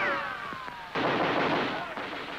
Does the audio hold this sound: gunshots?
yes